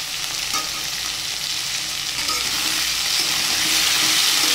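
Cabbage and mixed vegetables sautéing with salt and turmeric, giving a loud, dense, continuous sizzle that builds slightly over time, close to the pan with no talking.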